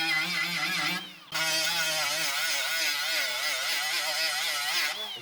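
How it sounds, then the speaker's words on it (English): A die grinder fitted with a Scotch-Brite type disc strips paint from a car door with a loud, close, wavering high whine. It cuts out briefly near the start, then runs steadily. "I've got my little die grinder thing with me"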